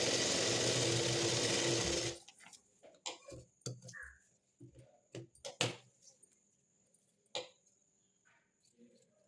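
A sewing machine stitches blouse fabric in a fast, dense run for about two seconds, then stops, leaving scattered clicks and handling noises.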